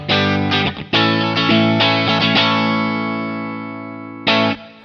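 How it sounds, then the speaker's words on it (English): A clean electric guitar through a MOD Dwarf pedalboard strums a few chords and lets them ring and slowly decay, then strikes one more short chord at the end. "So the sound of the clean guitar here."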